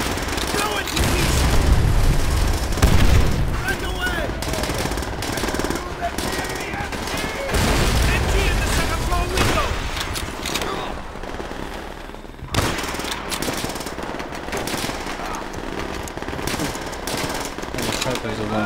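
Call of Duty: World at War battle, with dense machine-gun fire, rifle shots and heavy explosion booms rolling on continuously, loud and close, while soldiers shout orders over the combat.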